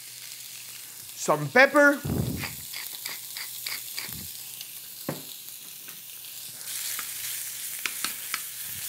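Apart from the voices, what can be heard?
sliced mahi mahi frying in grapeseed oil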